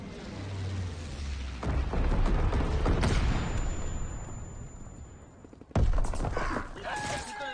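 Battle noise in Call of Duty WW2 multiplayer: a constant roar of distant gunfire and rumbling blasts, then a sudden heavy boom near the end, with shouted voices over the din.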